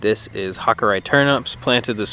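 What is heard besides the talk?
No distinct noise like a dog, phone or traffic.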